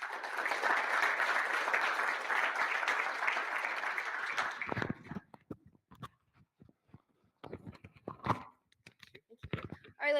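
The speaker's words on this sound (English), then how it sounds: "let's give one more round of applause for all our researchers" An audience applauds researchers at a research forum with dense, steady clapping for about five seconds. The clapping then dies away into scattered individual claps and light shuffling.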